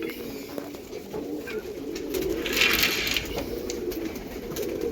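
A pigeon held before release into open sky coos in soft, low, repeated calls over faint background rustle. The sound is moderately close and steady.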